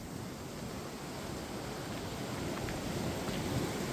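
Water rushes past a water mill wheel in Belgium, a steady, broadband roar of flowing water that swells slightly louder, continuous and close, with no talking.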